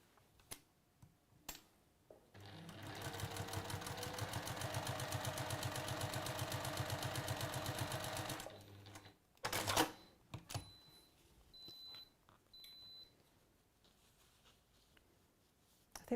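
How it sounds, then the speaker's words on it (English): A sewing machine stitches fabric pieces together in a workshop, giving a steady, close mechanical chatter that runs for about six seconds and then stops, followed by a few clunks and faint handling. "And then you're going to sew fabric B to the right hand side of that strip."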